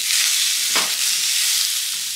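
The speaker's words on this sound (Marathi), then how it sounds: "आपला कांदा हा भाजला जात आहे।" Onion frying in a little oil in a pan gives a steady, close sizzle with a brief scrape of stirring near the middle, and no voices.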